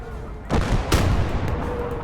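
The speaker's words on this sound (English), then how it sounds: "Counter battery fire." Counter-battery artillery fires in the video game Kampfgruppe: two sharp booming shots about half a second apart, each followed by a rumbling tail.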